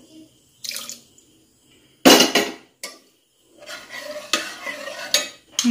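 Hot water going into nombu kanji in a pressure cooker, heard as a few separate wet splashes and pours with metallic clinks against the pot, loud and close, with silent gaps between them.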